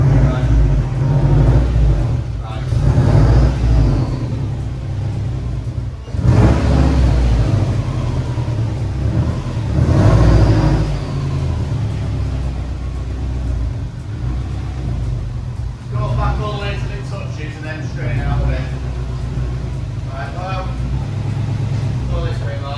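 Prodrive Subaru WRX (GB270) engine running in a workshop, a steady low rumble with a few swelling revs, under people talking.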